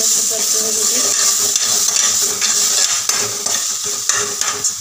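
Potato paratha filling with turmeric and salt being sautéed in a pan, a steady bright sizzle with stirring scrapes and light clinks throughout, close and continuous.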